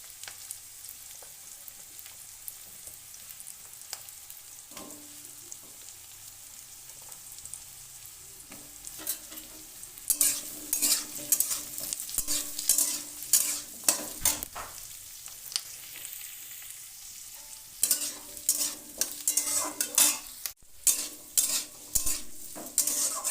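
Potatoes and chopped bitter gourd fry in a pan for a chorchori, starting as a quiet sizzle and then growing louder as repeated scraping stirs come in bursts, close up.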